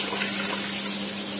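Cooked dal and tamarind water pour into a pot of sambar, a brief, close, continuous liquid gush.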